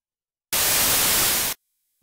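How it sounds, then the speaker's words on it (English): A single one-second burst of flat, hissing broadband noise, loud and steady, starting and stopping abruptly between silence. "This is a sound of broadband noise that we played."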